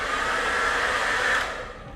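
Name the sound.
hair dryer running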